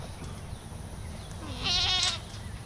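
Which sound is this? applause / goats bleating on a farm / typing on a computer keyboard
goats bleating on a farm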